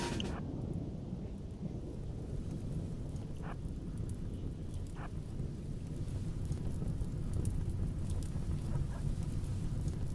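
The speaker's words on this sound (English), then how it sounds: "A dry thunderstorm" A dry thunderstorm in the video game RimWorld gives a steady, loud, rumbling wash with faint crackles running throughout, and no voices.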